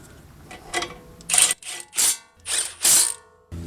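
Front brake caliper bolts on a 2011 Honda Pilot being run in and snugged with a ratchet, heard as several bursts of close, loud clicking separated by brief pauses.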